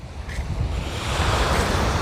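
Sea waves at a river mouth, a broad continuous wash of surf that swells slightly louder toward the end, close and loud with some wind buffeting the microphone and no talk.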